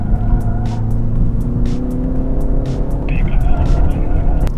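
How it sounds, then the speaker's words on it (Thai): A BMW 330i 3 Series accelerates hard on a race track, its engine droning steadily and loudly from inside the cabin. Someone talks over the engine noise the whole time. "อัตราเร่งนี่คือเรียกว่าสุดยอดมากๆนะครับกับ 330i คันนี้"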